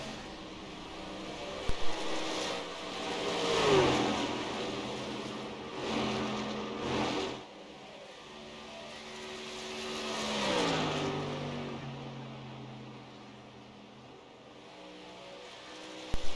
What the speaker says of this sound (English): He is back on the throttle a little bit, trying to pull that truck out to the front.